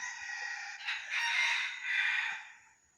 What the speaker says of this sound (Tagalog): Tumitilaok na.